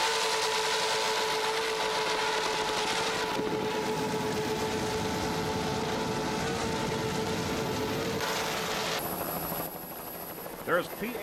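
Racing powerboat engines at the 1993 Montauk Offshore Grand Prix, including a 32-foot superboat with three 2.5 Mercury outboards, roar as a loud, steady drone that fills the whole stretch before easing near the end.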